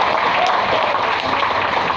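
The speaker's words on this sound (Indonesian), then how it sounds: "Tepuk tangan dulu" Audience applause at a national dialogue event with community members and university students, a dense, loud, continuous wash of clapping from a crowd filling the whole stretch.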